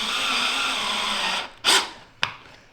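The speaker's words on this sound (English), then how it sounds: "drill it in" A power drill drives a screw through a chin spoiler pressed flush against the front bumper of a 2025 Mustang. A long steady whir is followed by two short, sharp bursts.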